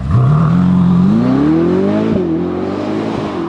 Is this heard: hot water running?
no